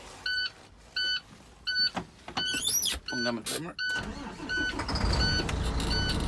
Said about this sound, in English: Next, I'm gonna start my engine.